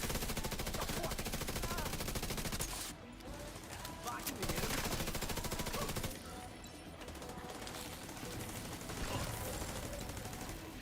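Automatic turret in The Division 2 firing long, rapid, continuous bursts of gunfire, loud and close, pausing briefly before resuming.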